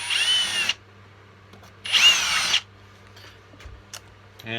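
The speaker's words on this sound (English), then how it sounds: "I'll get a drill and I'll drill out the four corners" A power drill bores out the corners of a cigar box's wood in two short, loud whirring bursts, each under a second, separated by quiet with faint handling noises.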